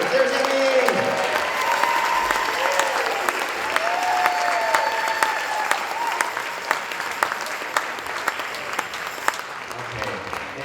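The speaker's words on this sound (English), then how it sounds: "One more round of applause for our seniors." Sustained applause from a school concert audience honoring graduating seniors, dense and steady for the whole stretch with a few scattered whoops and talk mixed in.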